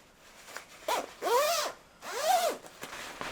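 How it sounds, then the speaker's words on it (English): Zip on a Beretta tactical jacket with windproof lining pulled open and closed, two long rasping zipping strokes with short ticks between, close and clear without talk. "Zips are good quality, as you can see"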